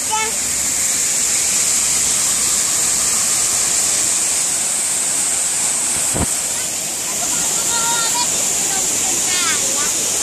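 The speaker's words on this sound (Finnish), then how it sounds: "ollaan nyt vesiputouksen vieressä" Waterfall heard from close by as a steady, dense roaring rush that fills the whole scene without letup, with faint chirps near the end.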